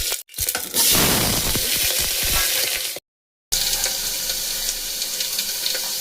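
Two bay leaves dropped into plenty of hot oil for a vegetarian fasting-day dish, a loud, dense hiss and crackle that runs close and steady, broken by a brief cut to silence before resuming.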